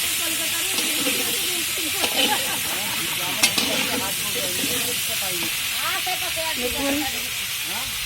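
Meat frying and sizzling in a large pot, a steady broad hiss throughout with occasional crackles, while people talk over it.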